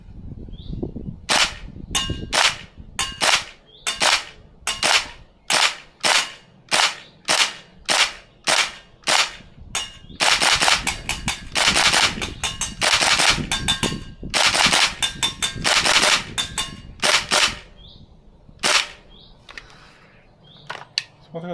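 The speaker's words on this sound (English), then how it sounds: "Might as well shoot the target for fun." A Tokyo Marui AKM green gas airsoft rifle fires at a target in a long series of sharp, loud cracks, single shots evenly spaced at first, then quicker bursts and rapid strings, ending with a few scattered shots.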